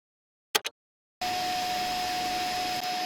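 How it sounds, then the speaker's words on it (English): Two brief faint clicks, then a vacuum cleaner switches on and runs with a steady loud whine and airy roar, no talking. "with the vacuum cleaner on the go behind us"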